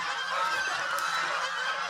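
Geese kept on a farm honk steadily and continuously, a loud, dense chorus of nasal calls close by with no talk.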